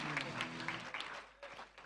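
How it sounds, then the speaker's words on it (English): Audience applause at a national youth sports competition awards ceremony in Nagpur, a hall of clapping that stays steady then briefly dips before picking up again, with a voice faintly under it. "A huge round of applause for him."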